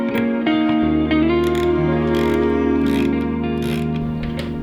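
Mechanical whirring and ratcheting hums along steadily and loudly as a screw is driven underneath to fix a TRD body kit piece onto a GR Yaris, with a few sharp clicks on top.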